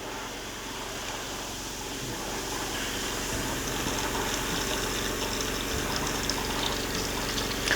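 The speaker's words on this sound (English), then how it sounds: "we're just going to run it till we get a nice steady stream of clear water coming out" Water runs steadily from the kitchen faucet of a Winnebago View or Navion RV while its lines are flushed, a continuous broad rushing hiss with a low pump hum that holds even throughout and swells slightly partway.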